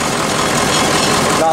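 A 1986 Ford F700 toterhome's 8.2 Detroit Diesel turbo engine idles after a cold start, a loud, steady, close rumble with no variation over a brief stretch.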